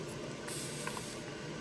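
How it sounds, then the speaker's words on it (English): A light, steady hiss of spray misted over silicone resin molds for ocean-themed seashell trinket dishes, a soft continuous spray lasting under two seconds at close range with no talking. "I'm just going to give them all a light little spray."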